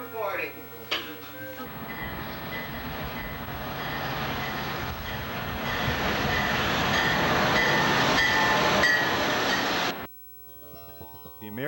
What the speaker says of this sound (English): Here's the first eastbound run passing through Canton, Ohio on November 17, 1989.